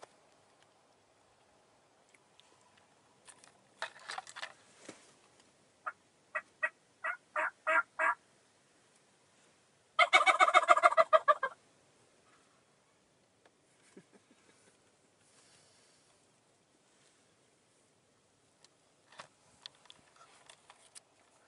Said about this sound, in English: Call a couple times and then gobble.